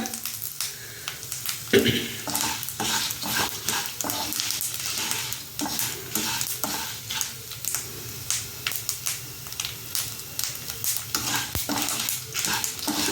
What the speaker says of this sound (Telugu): సో నెమ్మదిగా సిమ్లో పెట్టి చూసుకోవాలన్నమాట.